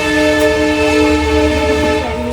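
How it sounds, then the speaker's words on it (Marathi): A train passes close by at a railway station with a loud, sustained horn and rumbling wheels, steady and dominant throughout. "इथंच रेल्वे स्टेशन आहे रेल्वे स्टेशन"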